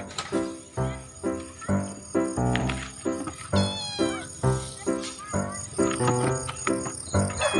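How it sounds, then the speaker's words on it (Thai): Several cats meowing at a garden attraction in Khao Yai, Thailand, a rapid run of loud, close, overlapping meows and wavering cries filling the whole stretch. "แมวเหมียว ลงมา"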